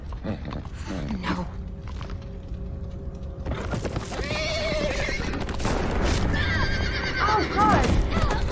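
Horse from the video game The Walking Dead whinnies several times over tense game sounds and music, with hoofbeats and a brief voice earlier; loud neighs near the end.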